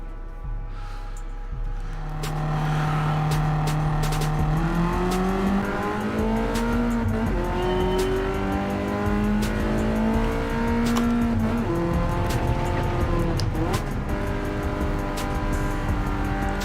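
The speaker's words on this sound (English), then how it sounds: "There goes that unpredictable snap oversteer." Gran Turismo 7 race car engine revs up through rising gears with tire squeal as the car snaps into oversteer, loud and continuous throughout with no talk.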